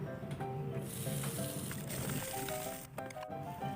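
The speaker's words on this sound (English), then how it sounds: "I will fry the sausage with a little oil" Sausage frying in a pan with a little oil, a soft continuous sizzle under a layer of steady tonal background sound, with a couple of brief sharper spatters near the end.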